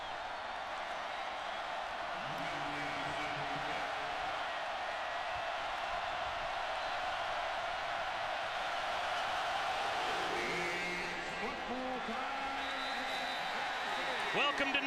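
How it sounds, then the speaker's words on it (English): A large stadium crowd at Neyland Stadium in Knoxville fills the air with a steady, dense roar at night before LSU and Tennessee kick off, holding loud and unbroken throughout with faint tonal calls rising within it. "Crowd's lively."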